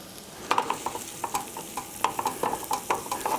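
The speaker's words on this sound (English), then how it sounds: "I'm going to add some onions and let those cook." Onions cooking in melted butter in a skillet, a gentle sizzle under a run of rhythmic scraping and tapping stir strokes close by.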